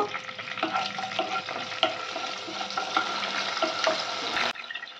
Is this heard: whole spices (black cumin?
yes